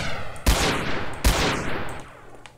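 Two loud, close pistol shots in SA-MP DayZ crack out about three-quarters of a second apart. Each shot carries a long, ringing tail that sweeps downward and fades before the next one lands.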